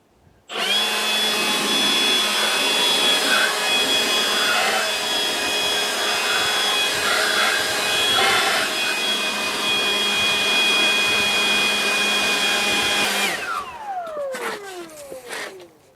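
A battery-powered blower runs continuously and loudly for about thirteen seconds while clearing debris from drilled holes, with a steady whine that cuts off and winds down at the end.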